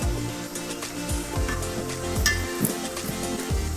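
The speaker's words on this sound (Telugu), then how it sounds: "ఇప్పుడైతే ఆయిల్లో బాగా మగ్గనిద్దాము. చూసారు కదా, ఆయిల్ అలా పైకొచ్చి బాగా ఫ్రై అయిపోవాలన్నమాట ఈ బరబాటి." Long beans (barbati) fry in hot oil with a close, steady sizzle and crackle, broken by repeated soft knocks and stirring sounds. No one speaks.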